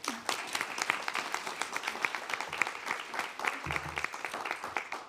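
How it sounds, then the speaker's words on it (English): Applause from a crowd at a Board of Supervisors meeting, dense overlapping claps sustained at a steady level, with a brief low thump near the end. "Please give her a round of applause."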